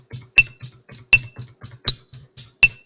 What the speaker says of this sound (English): here's my 8th triplet beat that I came up with